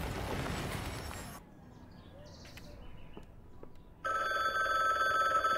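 A telephone rings in the video game The Bookwalker: Thief of Tales, a loud sustained electronic ring that cuts in abruptly and holds steady after a stretch of quieter ambience and a faint earlier burst of noise.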